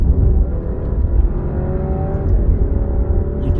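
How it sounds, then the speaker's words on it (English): Engine of a 2022 Alfa Romeo Giulia Veloce heard from inside the closed cabin, a steady, muffled low drone with a faint rising tone, no voices over it. "the engine with everything closed, you can hear it, and it sounds rather nice"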